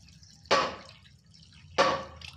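Water is poured into a pan of fish curry in two short, splashy bursts separated by a quiet gap, each one fading quickly. No one talks.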